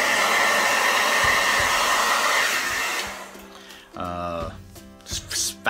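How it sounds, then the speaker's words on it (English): A blow dryer on its warm setting roars steadily up close while drying a beard, then cuts off with a click, followed by a few rustling handling sounds. "Break out the blow dryer. And yes, I use warm."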